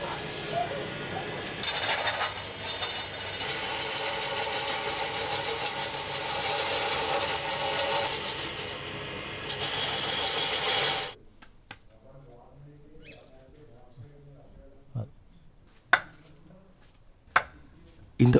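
Machine cutting and sanding the circular wooden body of a hand drum, a loud continuous whirring and grinding for about eleven seconds, then stopping, followed by quiet room noise with a few sharp knocks.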